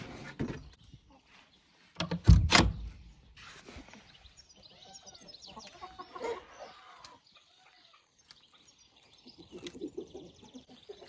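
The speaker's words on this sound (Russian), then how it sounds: "Большой такой петух, широкий." Chickens cluck softly and a rooster calls at a moderate distance, with a sharp thump near the start and quiet barnyard ambience between calls.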